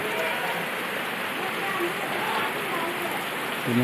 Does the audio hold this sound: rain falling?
yes